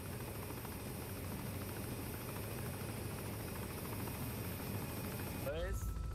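Arma 3 helicopter engine drones steadily and loudly through the whole stretch, a continuous turbine-and-rotor hum that swells slightly near the end as a voice cuts in briefly.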